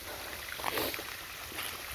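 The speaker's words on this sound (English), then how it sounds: "You can hear the water both from where it's dripping off over there" Water trickles off a ravine and runs out of a culvert outdoors, a faint, steady, hissing flow with soft gurgles, heard from a short distance.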